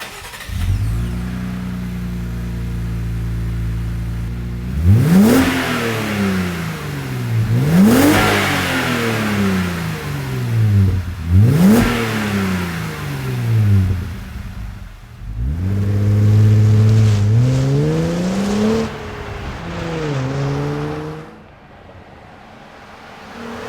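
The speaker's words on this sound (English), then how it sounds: "that's a wrap on this MagnaFlow dual tip exhaust on the back end of our 2019 JL" A 2019 Jeep Wrangler JL with a MagnaFlow 2.5-inch dual-tip cat-back exhaust idles, then revs sharply several times in a row, each rev climbing and falling back, ending with a deep rumbling burble.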